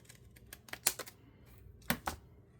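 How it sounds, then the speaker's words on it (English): Scissors snipping through paper strips for a handmade journal, with a few faint quick cuts followed by two louder crisp snips, close up in a quiet room. "And I can cut them all at the same time."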